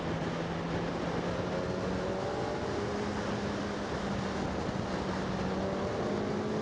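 Suzuki GSX-S1000 GT motorcycle accelerating hard through an overtake, a steady droning engine tone climbing in pitch under heavy, constant wind rush, with no talking.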